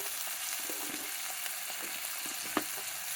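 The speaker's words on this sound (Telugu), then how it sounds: "ఇలా వేగనిచ్చి టమాటాలు కూడా వేయాలండి." Capsicum and potato pieces fry in a pan for a curry, giving a soft steady sizzle broken by a few stirring scrapes and one brief sharp clack near the end.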